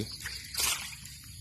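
Water trickles from a small pipe, a soft wet dribble with a louder splashy burst midway, steady and close.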